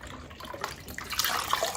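Chicken broth pours steadily into a pot at close range, a splashing, gurgling stream that grows slightly louder toward the end.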